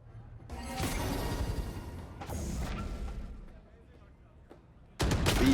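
Gunfire in Valorant during a VCT 2026 EMEA Kickoff esports match between Gentle Mates and Fnatic, with bursts of shots and impacts in two clusters, a quieter stretch, then a loud final burst, all under excited caster commentary.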